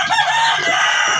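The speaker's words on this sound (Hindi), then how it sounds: "अभी मैं मुर्गियों को डाली हूँ, सारी मुर्गियाँ मेरे पास आ गई हैं" Chickens crowd close while being fed grain, giving a loud, continuous mass of clucking and crowing-like calls right beside the listener, with no talk.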